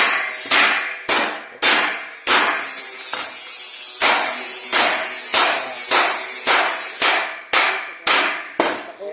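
Nails hammered into construction formwork for a second-floor concrete slab, sharp hammer blows striking in quick uneven bursts, close and loud.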